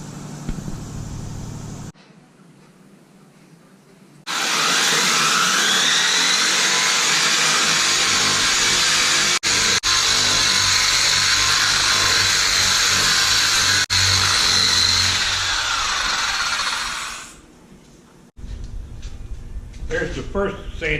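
A power sander grinding a table top with a steel insert whirs loudly for about thirteen seconds in a steady high-pitched grind, starting and stopping abruptly, with quieter background sounds before and after.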